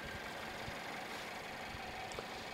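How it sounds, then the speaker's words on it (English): Mercedes-Benz C250 with the M274 2-litre turbocharged inline-4 petrol engine idling, a faint, steady low hum with no talk over it. "it's a 2-litre turbocharged inline 4-cylinder petrol engine with 211 horsepower"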